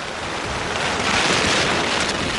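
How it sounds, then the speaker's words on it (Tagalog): Strong sea waves whipped up by a typhoon off Rojas City, Capiz, while fishermen sail out, come through as a dense, loud, continuous roar of surf and wind. "Pero may ilang mangingisda pa ring naglayag sa kabila ng malalakas na alon."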